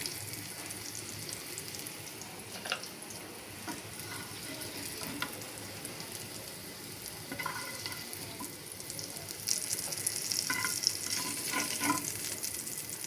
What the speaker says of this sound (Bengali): এভাবে করে সবগুলো আমি ভেজে নিব